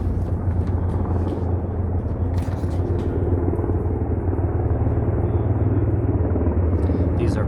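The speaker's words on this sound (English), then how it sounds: "There's a helicopter flying above." Helicopter flying above a lecture, a continuous low rumbling drone that stays steady and fairly loud throughout, with a person talking over it.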